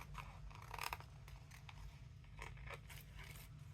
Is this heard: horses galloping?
no